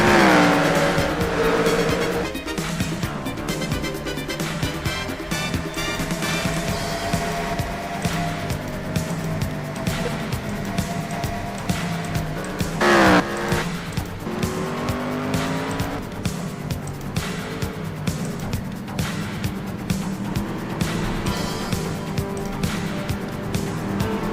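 Race cars roar around Sebring International Raceway in a racing game, engines whining and shifting continuously with tire squeal, one car sweeping past sharply midway, loud and sustained throughout.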